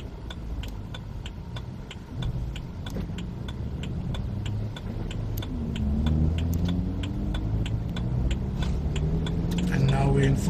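A manual-transmission car pulls away while towing another car of about 1.3 tons, its engine rumbling low and rising gently as it builds speed, with a steady rapid ticking throughout.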